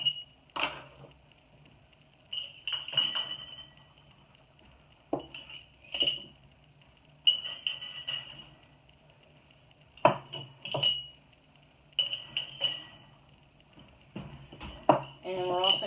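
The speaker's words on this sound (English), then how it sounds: "I'm going to bring out my jars." Glass canning jars for home-canned baked beans are set out on a counter, giving repeated bright clinks and light knocks in several clusters, fairly close, with quiet gaps between.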